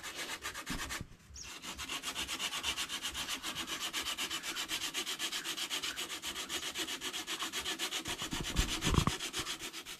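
Steady rhythmic scraping of sandpaper on wood, back-and-forth strokes repeating evenly, with a brief pause early and a couple of knocks near the end.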